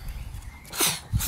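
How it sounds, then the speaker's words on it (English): A small pug gives a quick snorting sneeze, followed by a second short snort, close up and fairly quiet. "Sneezing all over my hand."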